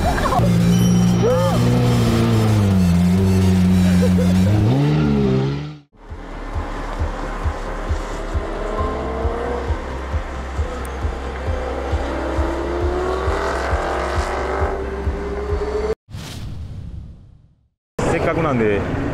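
Lamborghini Aventador SV Roadster V12 engine revving loudly, pitch sweeping up and down, then pulling away in a sustained roar with brief cutouts; voices chatter over the opening.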